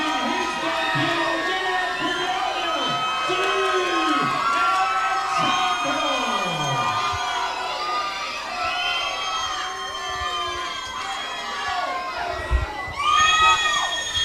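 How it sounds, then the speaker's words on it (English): A packed MMA event crowd roars for a debuting fighter, loud sustained cheering with high whoops and shouts swelling throughout, while commentators talk over the din. "the crowd is going crazy for Daniel, man"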